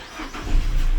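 A Peugeot 207cc, bought as unrecorded salvage, has its engine started up: a short crank that swells into a deep, building engine roar, close by and loud.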